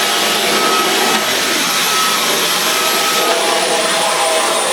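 A Dyson V11 Absolute cordless vacuum cleaner runs on carpet, a loud steady high-pitched whine and rushing airflow held close up for several seconds with no break and no talking.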